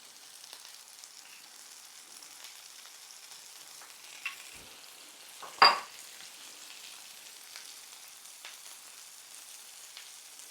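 Cod fillets and Brussels sprouts sear in a hot pan, a faint steady sizzle and crackle broken by a sharper spitting burst midway and a few soft pops.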